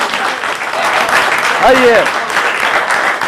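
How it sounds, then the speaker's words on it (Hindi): Audience applause at an Urdu mushaira, a dense wash of clapping running steadily throughout, with a voice speaking over it briefly near the middle. "तालियां बजा दीजिए जोरदार उनके लिए।"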